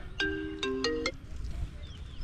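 A mobile phone rings with an incoming call outdoors on a farm during planting: a short bright melodic phrase of four quick notes, fairly close, then quiet background noise.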